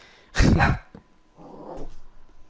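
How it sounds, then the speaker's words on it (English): A dog in the room lets out one loud, close bark, followed by a softer, rougher growl-like huff a second later. "my dog is barking"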